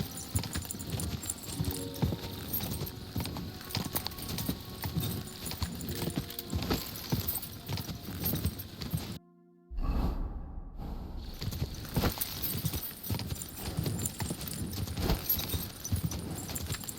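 Horse hooves clip-clopping in the medieval game Kingdom Come: Deliverance II, a steady trotting rhythm over ambient game sound that drops out briefly midway, then resumes.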